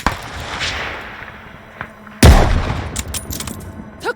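Video-game gunfire cracks out in loud bursts: scattered shots at first, then a heavy booming volley followed by rapid repeated reports, with no talk over it.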